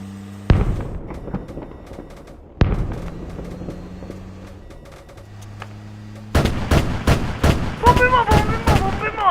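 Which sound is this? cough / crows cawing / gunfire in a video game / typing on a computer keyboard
gunfire in a video game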